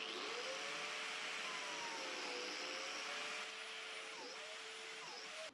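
Parkside PFDF 900 A1 biscuit joiner running against wood as it cuts slots, a loud continuous whining motor roar with slight pitch shifts throughout, no pauses.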